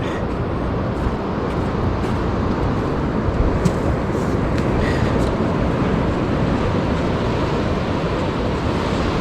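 Ocean waves wash onto a beach at night during gold metal detecting, a continuous loud rushing surf with no clear breaks and no voices.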